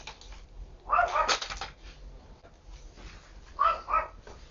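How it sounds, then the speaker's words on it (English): Neighbor's dogs bark in two short bursts of a few barks each, somewhat distant, with quiet background between. "my neighbor's dogs"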